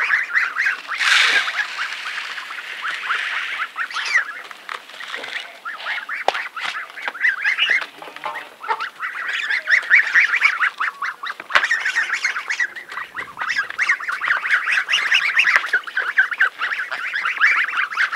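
Geese honk and squawk steadily in a village yard, with a chicken among them, the calls overlapping in busy bursts close by and carrying on without pause.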